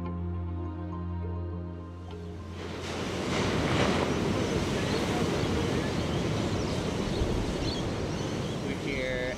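Ocean waves break at Snapper Rocks, Australia, in offshore surf conditions, swelling into a loud, sustained wash of roaring surf with wind noise after a few seconds of talking at the start.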